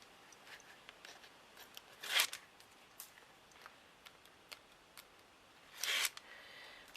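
Backing paper peeled off double-sided tape while assembling a handmade doodle book, two short crackly ripping bursts, close and quiet, separated by faint small rustles and ticks.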